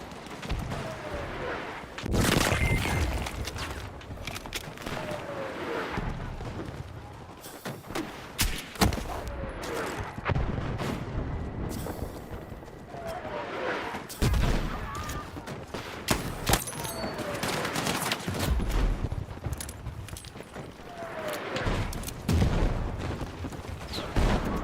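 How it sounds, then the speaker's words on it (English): Mortar fire in Battlefield 6, repeated heavy booms and explosions mixed with bursts of gunfire over a long stretch, with players talking over the battle. "The mortars sound cool, at least."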